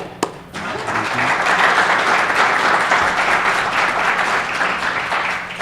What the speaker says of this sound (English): let's do a clap.